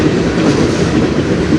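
CN freight train rolling past on the Strathroy Subdivision, a loud, continuous rumble with rhythmic wheel clatter, close by and without any talk.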